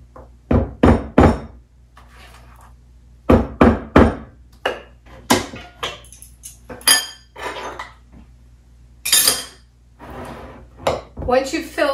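Irregular clanks and thunks of metal baking pans and utensils knocking together nearby as zucchini cake batter is divided between two pans, in uneven bursts with brief pauses between.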